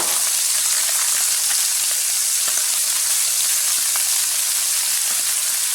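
Scallops searing in a hot skillet with pepper, a loud, constant close-up sizzle and crackle, alone with no talk.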